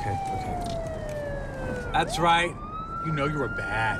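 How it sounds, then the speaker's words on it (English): A police siren wails steadily and close behind a car being pulled over in the sitcom Modern Family, its long falling and rising tone running under people talking and laughing. "That's the siren."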